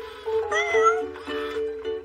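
A cat being assessed at a rehoming centre meows close up, a drawn-out, wavering call broken into a few short phrases over about two seconds.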